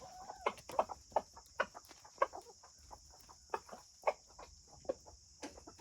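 Hens cluck in a rapid, uneven run of short, close, fairly loud calls while eating spaghetti for breakfast in a backyard flock, with a steady insect-like whine underneath.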